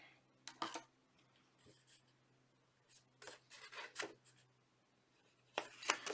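A pencil marks a workpiece in a few short, faint scratching strokes spread across several seconds, with soft handling noise over a low background hum and no talk.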